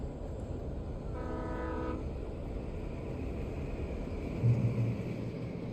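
A train in the video game Alan Wake Remastered rumbling by at a distance under low steady noise, with a brief horn-like tonal blast early on and a faint low hum later.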